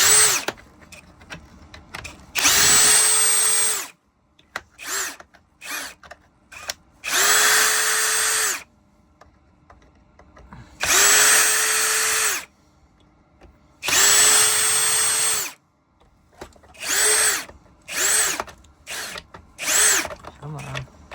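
A power drill backs screws out of a Shark Zero-M vacuum cleaner in about eight loud, close bursts of one to two seconds each. Its whine ramps up at the start of each burst, with short quiet gaps and faint handling noises between them.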